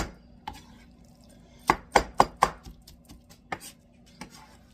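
A knife chops ingredients on a cutting board for eggplant steak, a quick burst of four sharp close knocks followed by a few slower, scattered taps in an otherwise quiet kitchen.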